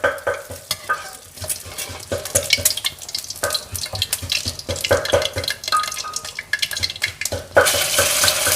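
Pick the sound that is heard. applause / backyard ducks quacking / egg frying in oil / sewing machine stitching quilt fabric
egg frying in oil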